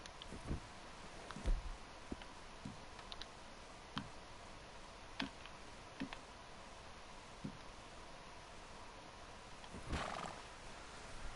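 Horses in the Red Dead Redemption 2 video game, with faint whinnies and scattered hoof clops and ticks over a quiet ambient game background, fairly distant and soft.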